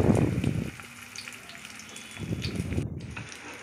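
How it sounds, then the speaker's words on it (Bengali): Fish kebabs dropped one by one into hot oil, bursts of bubbling sizzle that swell, settle to a steady low fizz, then flare up again, close and fairly soft. "এভাবে একটা করে সব ফিশ কাবাবগুলো আমি তেলের মধ্যে ছেড়ে দিলাম।"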